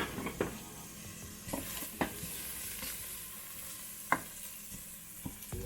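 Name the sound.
herbs and onion sauteing in a pan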